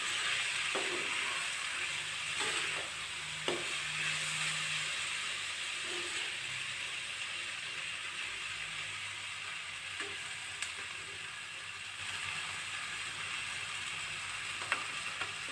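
Moong dal and spices fry in a pan as the base for an Assamese fish head curry, a continuous close sizzle with occasional soft clinks and stirring scrapes and no talking.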